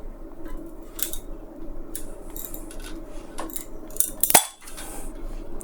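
Scissors snip through the LED strip of a broken LED lamp, giving a few small, sharp clicks over faint handling noise, with one louder crisp cut near the end.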